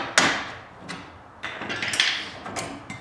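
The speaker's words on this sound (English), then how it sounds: "Sometimes this bolt gets stuck in there, so you might have to hit it out with a screwdriver" Sharp metallic strikes as a stuck bolt is knocked out of the spindle of an older Club Car DS golf cart, struck with a screwdriver: four or five close impacts at an uneven pace, each with a brief ringing tail.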